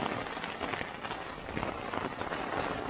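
Rain during a thunderstorm patters on a Sierra Designs Full Moon 2 tent's rain fly, a dense, even hiss of countless drops, close and steady, with no voices.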